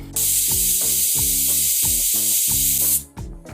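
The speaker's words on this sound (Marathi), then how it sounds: "ही बघा एक शिट्टी झालेली आहे" Pressure cooker whistle while cooking drumstick (shevga) khichdi: one loud, sustained steam hiss close by, pulsing with a rhythmic rattling flutter of the weight, then cutting off abruptly near the end.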